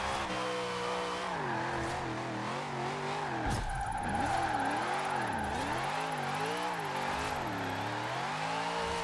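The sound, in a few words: car drifting in video game Forza Horizon 4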